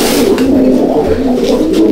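Silver Siraj fancy pigeons in a loft coo loudly and close, a continuous low throaty burble with soft repeated pulses.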